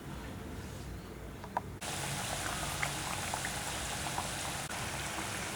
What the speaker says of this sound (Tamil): இப்போ நம்ம வடை சுட்டுடலாம்.